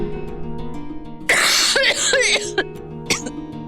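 Sharp, loud coughing from a woman in a Hindi TV drama scene, a burst of several harsh coughs followed by a final shorter cough, over a steady background music bed.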